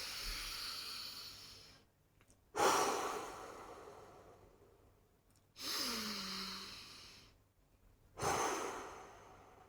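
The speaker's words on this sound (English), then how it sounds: "Let's take a few deep breaths." Three slow, deep breaths, each a long airy inhale or sigh followed by a gradual fading exhale, close and quiet with pauses in between.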